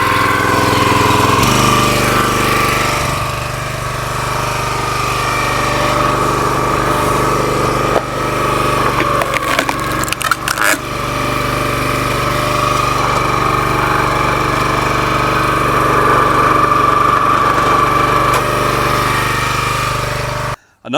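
A log splitter's small engine is run at full throttle, a loud, steady, buzzing drone close by that holds for about twenty seconds with brief wavers before cutting out.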